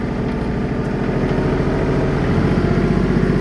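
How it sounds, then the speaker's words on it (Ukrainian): A Kubota GT23 compact tractor's 23-horsepower three-cylinder diesel engine runs steadily at idle, a close, continuous low chugging rumble with even mechanical clatter and no pauses. "хороший приємний звук мотора. Мотор у нас на 23 кінських сили, трьохциліндровий."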